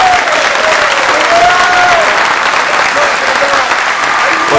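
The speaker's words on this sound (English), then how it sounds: "can you guys give a huge, hearty round of applause to Ben?" Loud, dense applause from an audience at a live event held inside a prison, sustained and close throughout, with a voice faintly audible beneath the clapping.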